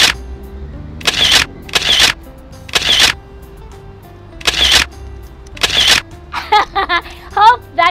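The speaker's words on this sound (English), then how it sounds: "Just a break to take a selfie" Camera shutter clicks snap off as a group takes a selfie during a break in a classroom quiz game, five sharp separate bursts spaced about a second apart, followed by brief excited voices.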